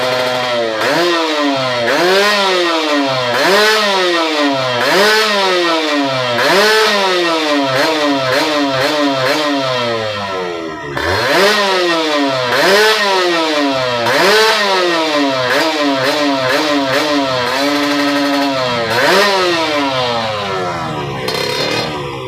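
Kawasaki Ninja SS two-stroke motorcycle engine, tuned for daily riding, revving hard in repeated bursts that climb past 12,000 RPM and drop back, loud and close with a raspy whine and no talking.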